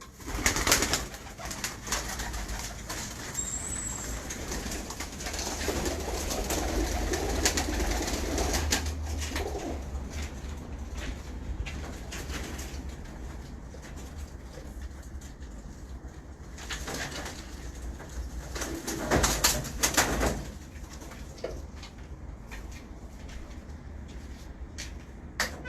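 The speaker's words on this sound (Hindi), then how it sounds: "ये काली कबूतरी है" Pigeons, including a black female, coo softly in repeated low calls with occasional wing shuffling, fairly close and continuous in a quiet setting.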